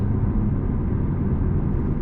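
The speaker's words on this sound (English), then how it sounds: "Now we're accelerating up to pace." A 2020 BMW M235i Gran Coupé accelerates on the road under cruise control, heard from inside the cabin as a steady, loud low rumble of engine and road noise, with no voices.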